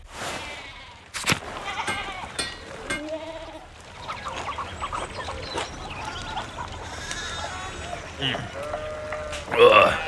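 Sheep bleat in a medieval village scene of the game Pentiment, several wavering cries scattered over about ten seconds, close and fairly clear, mixed with soft ambient sounds and a voice speaking between them.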